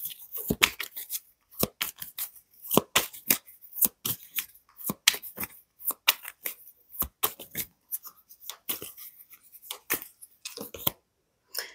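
Tarot cards are shuffled, handled and laid down on a table in a quick, irregular series of close, crisp snaps and soft slides, with brief pauses between bursts.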